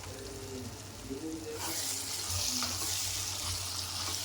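Turmeric stirred into a brinjal and green chilli curry in a pan, a gentle frying hiss that swells into a broader, louder sizzle partway through.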